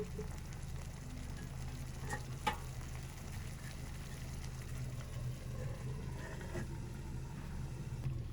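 Chicken simmering over a low flame in a pan for shahi white murgh, giving a steady, soft frying hiss with a low background hum and a few faint clicks, with no talking.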